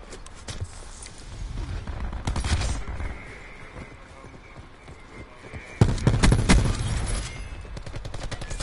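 A Stingray rifle fires in Black Ops 4 gameplay, with two loud bursts of rapid automatic shots separated by quieter stretches of footsteps and background game noise.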